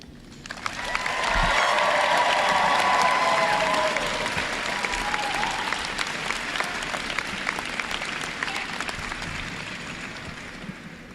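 A graduating class at a 2013 commencement bursts into loud applause and cheering, swelling quickly, holding strong for several seconds, then slowly tapering off.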